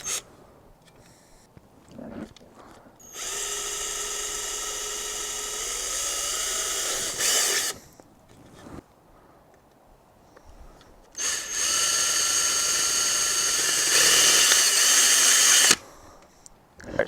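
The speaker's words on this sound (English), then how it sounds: "So what I'm going to do is move it over, have it be centered, and then I'll drill a new hole there." A power drill bores a new hole for a bike fender mount on a Giant Contend AR, its motor whining steadily in two long bursts separated by quiet pauses, loud and close with no talking.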